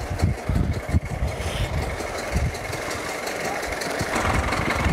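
A vehicle engine rumbles steadily at close range while driving slowly across the Stoppelmarkt fairground among showmen's rides and stalls, a continuous low drone with slight knocking and vibration.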